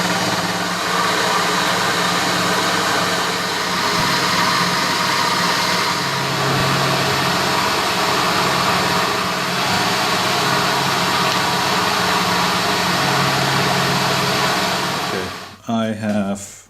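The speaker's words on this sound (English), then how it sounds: "we're running a 30mm shell end mill high-speed steel at 200 RPM under power feed." A milling machine under power feed drives a 30mm high-speed steel shell end mill at 200 RPM, giving a steady, close, loud mechanical drone with a constant whine that runs unbroken before cutting off abruptly near the end.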